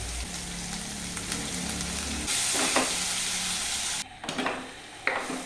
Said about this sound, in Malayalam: ഉള്ളി നല്ല പെട്ടെന്ന് വഴന്ന് കിട്ടാനായിട്ട് കുറച്ച് ഉപ്പ് ഇടുക